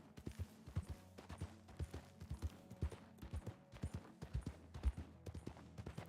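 Hooves of a horse ridden in a video game clip-clop in a quick, steady rhythm of sharp, close thuds over a low, quiet background hum.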